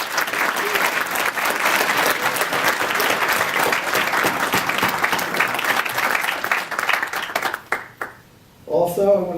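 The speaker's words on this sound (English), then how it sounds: "Let's hear a nice round of applause." Hands from a sizable audience clap in a sustained round for the portal team, dense and even for about seven seconds before tapering off, then a voice resumes speaking.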